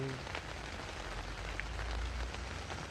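Steady rain falls on a surface on a wet day, a continuous soft patter with no voices over it.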